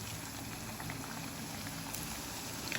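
Puri dough frying in hot oil over a low gas flame, a dense, continuous bubbling crackle that stays faint and even throughout, with no one speaking.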